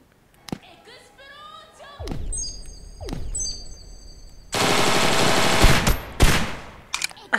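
Gunfire in the game Totally Accurate Gun Simulator, with thumping shots, zapping sweeps, and a loud sustained rattling burst near the end, then a few sharp single hits.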